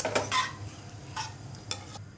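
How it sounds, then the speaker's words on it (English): Curry with yogurt is stirred in a pan on the heat, with a few spoon scrapes and clinks against the pan over a low background hum. "I'll keep stirring, because yogurt needs that attention"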